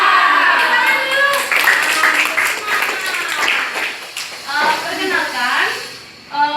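Students in a nursing class session clap their hands together in a quick rhythmic burst, mixed with lively voices and children-like chatter, the clapping fading and returning in uneven waves.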